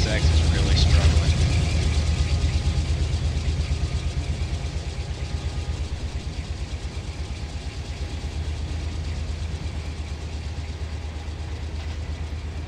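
A CSX locomotive engine in a rail video game labours under load, a steady, heavy low drone with a faint pulsing throb that holds throughout.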